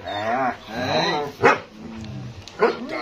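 German shepherd dogs bark and yelp close by in a kennel, a few loud, uneven bursts with whining tones between them.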